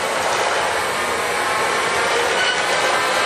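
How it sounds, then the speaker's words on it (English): A Bridgeport Series II heavy-duty vertical mill spins at 1000 RPM, giving a continuous, even mechanical drone and hiss that stays loud and unchanging throughout. "run the machine for us and show you how well it operates"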